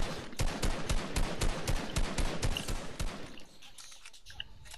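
Rapid gunfire in Fortnite, a fast run of sharp, evenly spaced shots that stays loud for about three seconds before thinning into a few scattered quieter pops.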